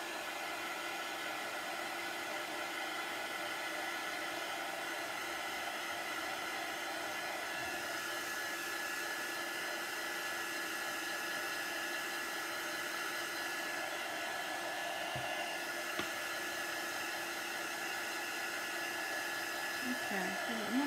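A hair dryer blows continuously on craft pieces for a pillow, a steady, faint whooshing hum that stays even throughout.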